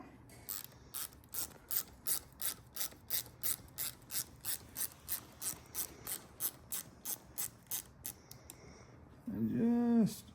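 Ratchet tool clicks in a steady rapid series while snugging hardware on a steering knuckle of an SCX6 RC crawler, about twenty crisp clicks close up, ending in a brief louder squeak.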